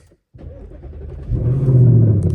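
A Ford Mustang S650 starting on a cold day: a brief silence, then the engine catches with a loud near rumble that swells into a deeper, steadier idle roar.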